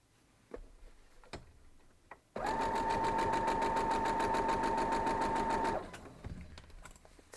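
A sewing machine stitches a piece of an Ohio star quilt block in one continuous, steady run of rapid, even needle ticks with a humming motor tone lasting a few seconds, framed by quiet handling clicks before and after.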